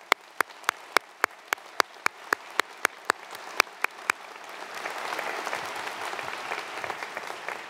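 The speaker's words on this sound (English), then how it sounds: "So please join me in a round of applause to thank all of these special guests." At a university commencement ceremony, one pair of hands claps sharply and steadily close by at first, then a large audience swells into sustained, dense applause that continues to the end.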